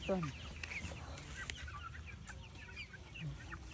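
Chickens on a small acreage clucking in short bursts close by, with a rooster-like call near the start, while children and adults talk over the flock.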